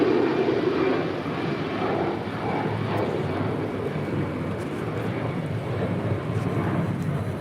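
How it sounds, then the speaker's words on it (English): An Avianca Airbus A320 in Surf City El Salvador livery takes off from LAX bound for Guatemala City, a broad steady jet roar that stays loud and continuous throughout. "641 taking off to Guatemala City on an A320, the Surf City, El Salvador livery"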